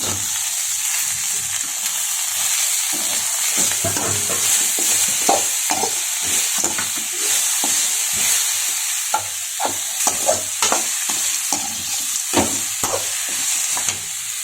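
Onion, grated coconut and curry leaves sauté in a pan with a constant steamy sizzle, while a spoon scrapes and stirs in quick irregular clicks that grow busier toward the end, close up with no voices.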